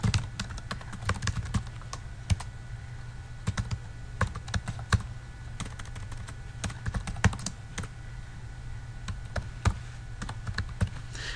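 Quiet, irregular keystrokes on a computer keyboard tap along at a steady typing pace for several seconds while a name and email address are entered, with a faint hum underneath and no talking.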